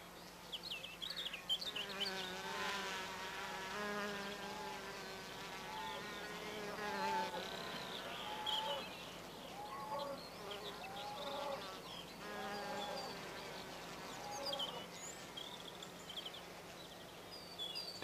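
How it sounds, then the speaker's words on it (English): Bees buzz steadily throughout in a Cotswolds garden, rising and falling in pitch with faint chirps scattered over it, moderately close and without any talking. "the work of pollination that bees undertake for us"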